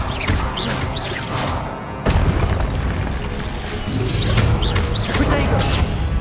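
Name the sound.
Confringo fire spell explosion from video game Hogwarts Legacy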